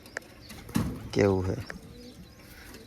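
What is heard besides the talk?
pigeon cooing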